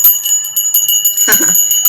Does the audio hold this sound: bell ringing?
yes